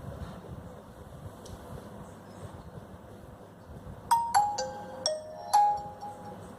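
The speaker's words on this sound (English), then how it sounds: "So let's boot up this device." A Nokia 5.1 Plus smartphone chimes as it boots, giving a short melody of a few clear bell-like tones partway through, over quiet room noise.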